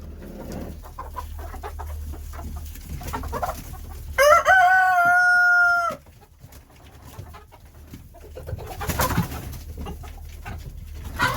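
Chickens and a rooster burst out of a freshly opened coop, a loud rooster crow ringing out mid-way among scattered clucks and squawks, with busy barnyard noise before and after.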